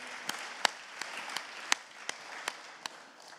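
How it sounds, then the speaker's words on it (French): Sparse, scattered hand claps from a small outdoor crowd at a rally in solidarity with Ukraine at a town hall in Nancy, about ten distinct claps over a few seconds at moderate distance. "Je crois qu'on peut applaudir ce genre de phrase."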